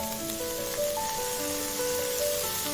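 Blanched sweet potato stems stir-fry in oil with minced garlic and onion in a pan, giving a steady, soft, close sizzle that runs on without a break and with no voices over it.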